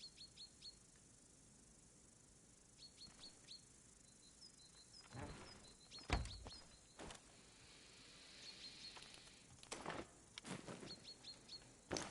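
Birds chirping in the military shooter game Arma Reforger, faint scattered high tweets over a quiet insect-like hum, with a few louder close thumps and rustles breaking in.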